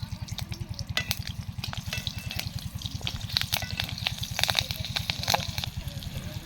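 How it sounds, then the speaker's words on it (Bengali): Steady, loud sizzling of bottle gourd peels frying in hot oil with slit green chillies, a continuous crackle with occasional sharper pops and a few stirring sounds. "গরম হয়ে গেছে, এবার আমরা লাউয়ের খোসা ভাজাটা ভেজে নেব"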